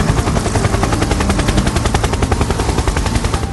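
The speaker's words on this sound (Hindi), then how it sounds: "इधर हेलीकॉप्टर नीचे उतरता है" A helicopter descending to land in an animated horror story, its loud rotor chop beating in a fast, steady pulse that fills the whole stretch with no voices over it.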